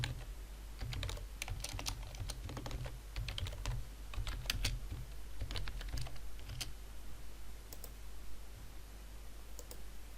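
Steady rapid typing on a computer keyboard, close and clear, with bursts of key clicks and brief pauses, alone without talk.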